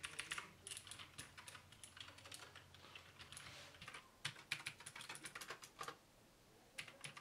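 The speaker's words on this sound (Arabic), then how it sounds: "صوت الكبسات تماما مثل اي كيبورد بلو سويتش الصوت عالي الى حد ما" Fast typing on a mechanical keyboard with blue switches, a steady run of crisp clicky key presses at close range and fairly quiet level.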